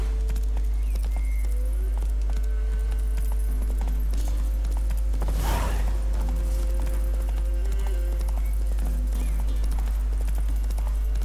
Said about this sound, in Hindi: घोड़ा किधर है मेरा आ जा Run, Roach